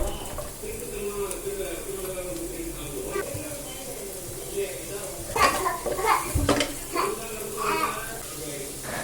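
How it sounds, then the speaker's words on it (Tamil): Chopped carrot, capsicum and onion sizzle steadily in a pan. A few louder clatters of stirring sound midway, and faint voices murmur in the background. "இது கூட வந்து நம்ம கட் பண்ணி வச்சுருந்த கேரட், கேப்சிகம் இது எல்லாத்தையுமே போட்டு நல்லா சாட்டே பண்ணிக்கலாம்"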